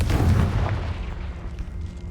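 A Confringo blasting spell explodes in Hogwarts Legacy as one deep, booming blast that fades into a rumbling tail, with a quieter low hum lingering.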